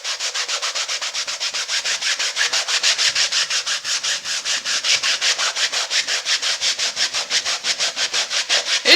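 Wet acrylic paint is rubbed across a painting after the surface is dampened with water, in a fast, even back-and-forth scrubbing rhythm of many short strokes. It is close and fairly loud, with no voices.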